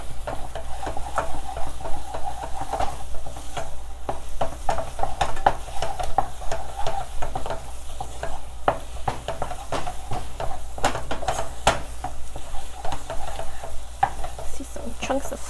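A spoon works flour into choux pastry dough in a hot pot, making rhythmic scraping and slapping strokes over a soft sizzle, close and continuous with no talk.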